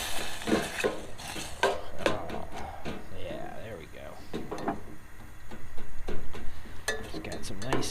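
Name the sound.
cooking green pepper and onion in a pot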